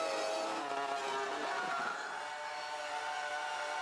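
Ferrari race car in a racing video game launching at the race start, a dense, loud engine roar with rising pitch sweeps as it accelerates, alone without talk.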